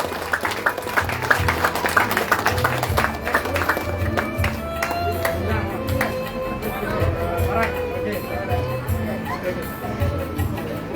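An audience at a Malaysian political election briefing in Muar claps in a sustained crowd applause, steady and fairly loud, with music and a voice running underneath.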